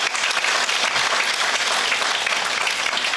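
Loud, full applause from a crowd at a corporate success meet thanking the team, dense and sustained for a few seconds without any speech.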